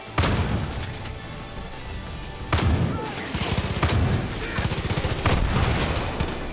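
Bursts of video-game gunfire from Far Cry 5, with heavy sustained volleys and rapid automatic fire at around half a second, 2.5 seconds and 5.3 seconds, loud and close throughout.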